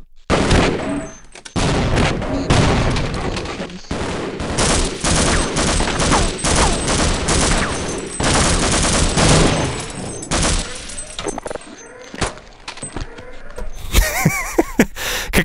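Automatic rifle fire in a Half-Life mod game, long loud bursts of rapid shots in close succession with brief pauses between volleys.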